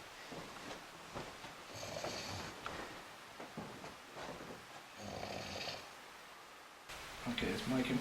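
A man snores in repeated rough breaths behind a door at an old inn, faint and muffled, while people talk quietly over it.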